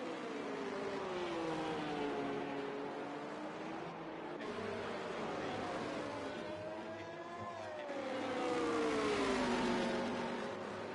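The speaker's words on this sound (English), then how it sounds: "Great racing we can see here between the McLaren and the Ferrari of Talisbro and Drakatos." Formula 1 cars, a McLaren and a Ferrari, race on track, their high engine whines rising and falling in pitch as they accelerate, with a continuous engine drone that swells near the end.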